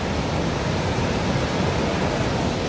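A waterfall near Rishikesh sends up a dense, constant rushing roar, even and unbroken for a few seconds, heard from a short distance with no voices.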